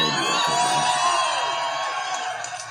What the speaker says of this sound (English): It is quite a large crowd out there.